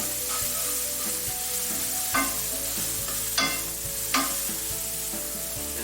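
Onions sizzle and fry in a pan for shrimp scampi, a steady close crackle with a few sharper stirring scrapes and clinks partway through, no voices.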